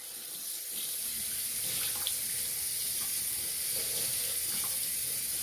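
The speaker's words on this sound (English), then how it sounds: "by putting water on my hair" Warm water runs steadily from a tap onto hair being wetted before shampooing, a continuous close splashing hiss throughout with no talking.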